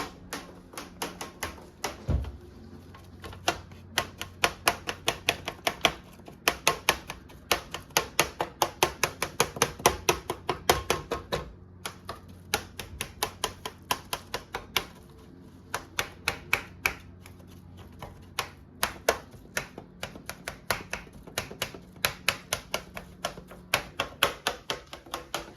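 Meat is poked repeatedly with a tool, making rapid bursts of sharp tapping in uneven rhythm, close and fairly loud, with short pauses between runs.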